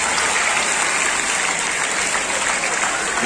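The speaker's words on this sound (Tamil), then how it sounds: "மீண்டும் ஒரு நல்ல கைத்தட்டல்" Students and teachers at a school Tamil and English literary club inauguration give a loud, dense round of applause, a continuous even roar of clapping filling the room.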